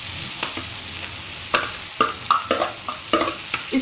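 A peas and cauliflower mixture is stirred in a hot pan, with a bed of sizzling and a run of sharp spoon scrapes and knocks coming closer together toward the end, and no talking.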